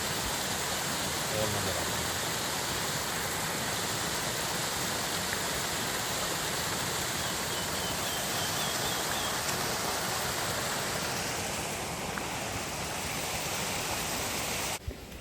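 Small waterfalls at Robbers Cave (Guchhupani) near Dehradun roar as a steady, loud wash of rushing water throughout, with someone speaking briefly over it.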